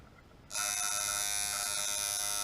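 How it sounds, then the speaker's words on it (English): A coil tattoo machine, set with rubber band tension, switches on after a short quiet moment and then runs as a steady, loud, close electric buzz until the end. "The more tension you put on this, you'll notice that the machine will start to get softer and softer."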